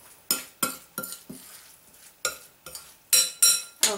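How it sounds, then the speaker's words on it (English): Bulgur wheat stirred together with olive oil, lemon juice, Kalamata olive juice, salt and pepper for tabouli, a spoon scraping and clinking against the bowl in repeated close strokes with no voices. "you just want to mix that all up in your bulgar wheat"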